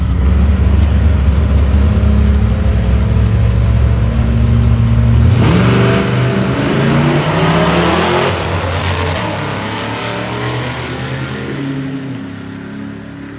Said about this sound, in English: Then we got the old school Ford against the Dodge.